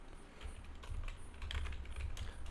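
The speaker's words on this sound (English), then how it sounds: "I'm gonna type some print" Rapid irregular keystrokes on a computer keyboard while entering Python code, close and fairly quiet, with no talking over it.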